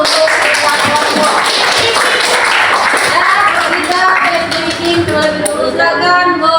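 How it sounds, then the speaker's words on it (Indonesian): A classroom of students applauds their presenting groups during a teaching-practice lesson, with dense, loud clapping that carries on throughout, mixed with chatter and voices. "Marilah kita beri aplaus untuk semua kelompok"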